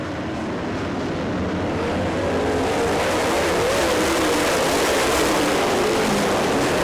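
Race cars roar around a dirt track during a racing restart, a dense, steady engine drone building slightly in loudness as the pack passes, with no clear talk over it.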